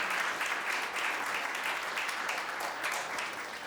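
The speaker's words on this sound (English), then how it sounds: "Round of applause for all of them." Steady audience applause at a cannabis community gathering in New York, a continuous wash of many hands clapping at moderate distance, fairly even throughout with no voices on top.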